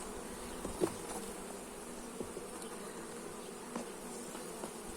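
Honeybees hum in a steady, dense swarm at an apiary, with a few louder bees passing close by and no voices.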